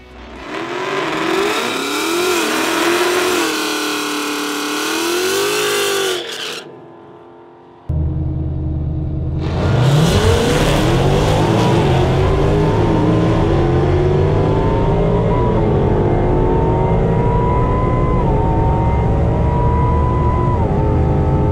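A Roush supercharged 2018 Ford Mustang GT roars down a drag strip, its engine climbing through gears with rising whine, a brief lift near the middle, then a long sustained loud pull, close and alone.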